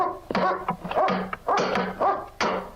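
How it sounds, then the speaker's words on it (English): A dog barks in a movie scene, giving several loud, close, sharp barks in an uneven rhythm, some followed by short whimpering yips. "The sound of this dog barking is driving me fucking bonkers, Jack."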